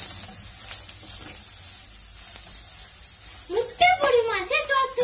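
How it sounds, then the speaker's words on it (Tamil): Spices frying in a pan for a lunch-box side dish, a soft sizzle that gives way to louder stirring scrapes near the end, with a voice heard over it. "இப்போ நாம இத மிக்ஸ் பண்ணி விட போறோம்"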